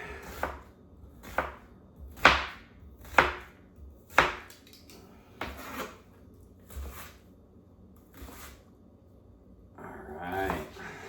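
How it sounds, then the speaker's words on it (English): A knife dices meatloaf ingredients on a cutting board, about a dozen sharp, unevenly spaced chops, close and moderately loud. "while you take the other half and get it all diced up"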